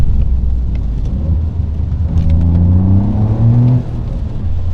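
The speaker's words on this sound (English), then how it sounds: "I love as well the exhaust is not too intrusive inside, so it's not drony at all." Toyota GR Yaris exhaust heard from inside the cabin, a steady low engine drone with rising harmonics as the car pulls, then easing off, clean and unobtrusive with no talk.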